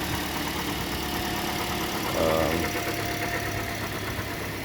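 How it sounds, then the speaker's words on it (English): A 2009 Toyota Corolla engine on fresh Mobil 1 5W-30 oil idles steadily nearby, a smooth continuous hum with a brief louder swell midway and no voices. "the engine's running neatly"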